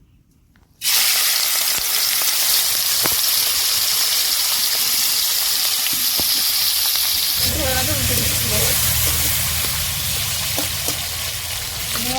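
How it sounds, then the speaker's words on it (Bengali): Shrimp with a little turmeric drop into hot oil in a wok and burst into a loud, sudden sizzle that holds steady, with a voice briefly rising under it near the end. "তেল গরম হয়ে গেছে চিংড়ি মাছ দিয়ে দিচ্ছি"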